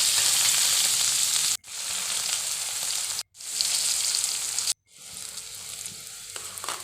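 Onion pieces sizzle loudly in hot oil in a pan holding fried fish, a steady close frying hiss broken by three brief silences, with no voices.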